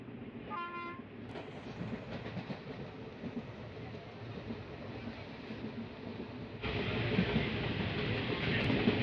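A passenger train runs on rails near Thakazhi railway station, a steady close rumble with rhythmic clickety-clack, a brief horn blast early on and a louder surge of wheel noise near the end.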